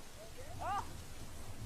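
Heavy rain pours in a steady, dense hiss that fills the whole stretch, with a faint brief tonal whine rising in the middle.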